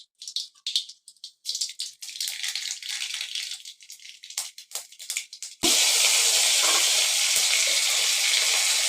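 Mustard seeds go into hot oil for tempering ragi flour sundal: first scattered, uneven crackles and rattles with brief pauses, then a sudden, dense and continuous loud sizzle, close and without talk.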